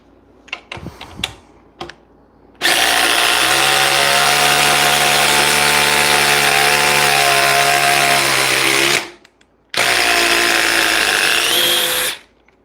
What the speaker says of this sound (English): This is the DeWalt DCF 870. This is their hydraulic impact driver.